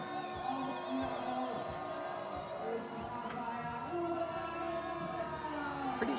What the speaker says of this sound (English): Oh, and listen to the crowd.